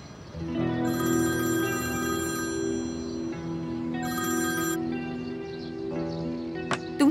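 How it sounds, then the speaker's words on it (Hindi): A phone ringtone plays a repeating electronic melody in bursts, fairly loud and close, continuing for several seconds with a brief chirp near the end. "कब से फोन बज रहा है"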